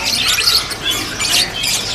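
A young jalak kongkong starling gives harsh, loud squawking calls in two bursts, close by and with no talk over them.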